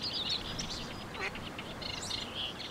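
Migratory waterbirds at the Moëze-Oléron coastal nature reserve in France: several ducks quack and chirp in repeated bursts over a steady outdoor hiss, with moderately near calls and no talking.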